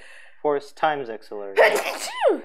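A person sneezes loudly and close by right after a line of speech in an indoor live session, one abrupt burst followed by a brief gasping vocal trail.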